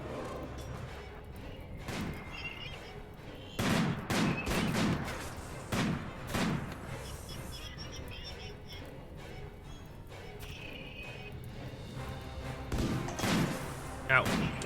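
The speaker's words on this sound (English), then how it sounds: "Oh, Naz is getting shot" RimWorld combat gunfire, scattered bursts of shots and thuds coming in clusters, moderately loud, with someone talking over and between them.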